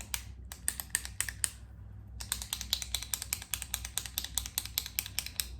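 Rapid keystrokes on a computer keyboard mixed with mouse clicks, close and fairly loud, with a short lull early on before steady, even typing resumes and continues to the end.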